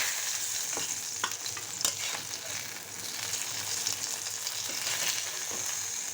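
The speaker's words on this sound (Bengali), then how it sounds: "কই মাছ আমার ভাজা হয়ে গেছে, ভালো মতো আমি কড়কড়া করে ভেজে নিয়েছি" Koi fish frying crisp in hot oil, a steady dense sizzle with occasional sharp pops and crackles running continuously and close throughout, no voices.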